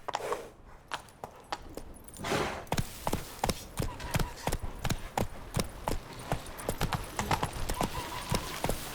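Roach the horse galloping in The Witcher 3: rapid, loud hoofbeats at a steady driving rhythm over ground, close up, with a faint snort or whinny early on and no clear talking.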